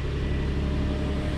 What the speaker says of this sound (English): we'll go ahead and start the motor